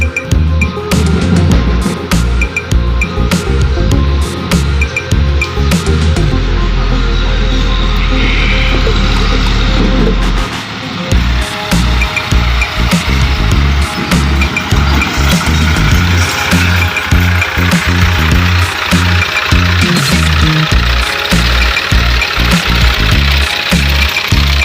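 A tractor engine chugs with a knocking diesel rhythm, loud and close. The low throb holds steady, with a heavier idling stretch partway through before the knocking returns.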